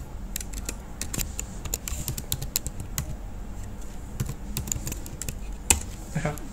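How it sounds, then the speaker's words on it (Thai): Rapid, uneven clicking keystrokes on a computer keyboard as a web address is typed, crisp and close, in short bursts with brief pauses between them. "ลองพิมพ์คำว่า localhost นะครับ"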